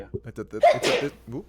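A single sudden sneeze bursts out mid-sentence at dusk near a village, loud and close, sandwiched between stretches of conversational speech.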